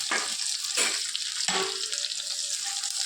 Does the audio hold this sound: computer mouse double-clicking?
no